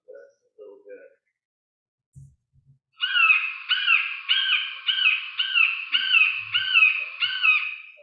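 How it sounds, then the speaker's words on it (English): Red-shouldered hawk calls from a played recording ring out in a steady series of about seven loud, repeated screams, coming after a few soft, scattered noises. "That's a red-shouldered hawk."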